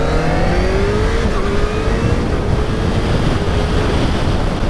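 Riding a 2019 Kawasaki H2 SX SE motorcycle at speed: loud, continuous wind roar buffets the microphone, with a steady engine drone and rising pitch as the bike accelerates, no talking.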